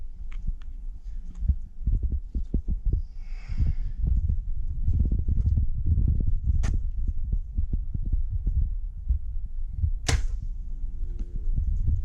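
An arrow released from a Bowtech bow at 80 yards outdoors gives a sharp, sudden snap that stands out above steady wind buffeting and low rumble, with no voices.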